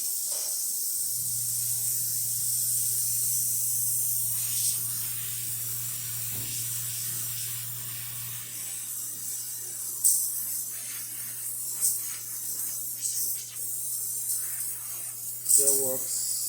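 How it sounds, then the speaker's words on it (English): A Quick Mill espresso machine's steam wand gives a steady, close hiss that holds throughout, with a low hum beneath it and a few small clicks and gurgles near the end. "So let's test the steamer."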